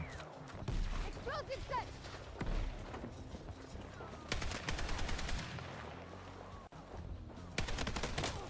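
Gunfire in the video game Battlefield, with sharp rapid bursts and single shots crackling in clusters amid other game noise, fairly loud and close, with a player's voice talking over parts of it.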